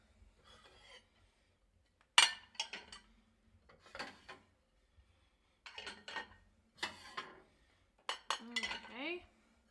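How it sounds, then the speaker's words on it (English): Plates clatter and clink as they are loaded into a home dishwasher, several separate bursts of ceramic knocks spread across the clip, fairly close, with a voice speaking softly between them. "So I'm going to start by loading my plates."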